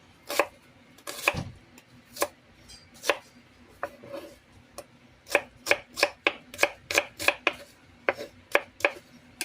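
A knife cuts pork liempo on a board with irregular thuds that settle into a quick run of closely spaced chops near the end, alone and close up.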